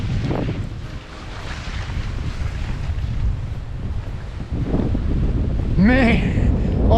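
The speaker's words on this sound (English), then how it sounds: "I don't know if you can hear the wind." Strong wind roars on an exposed mountain top during a wild winter storm, a loud continuous buffeting rumble against the microphone, with a brief voice near the end.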